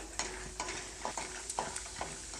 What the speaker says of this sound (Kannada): ಕಡಲೆ ಬೀಜನ ಒಂದು ಸ್ವಲ್ಪ ಫ್ರೈ ಮಾಡ್ಕೊಳ್ತೀನಿ